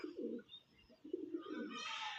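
Young pigeons coo softly in low, rounded bursts at a loft, faint and close, with a brighter chirp rising toward the end.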